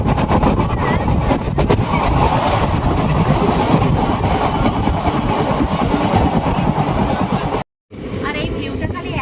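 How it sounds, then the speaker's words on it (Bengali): A passenger train runs with a loud sustained rumble and rattling clatter heard from inside a carriage, cutting out in a brief dropout near the end before the roar resumes. "চলো ফাইনালি ট্রেনে বসে পড়েছি।"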